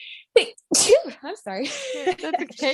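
One sharp, close sneeze bursts out during a quiet conversation, followed straight away by two people speaking briefly.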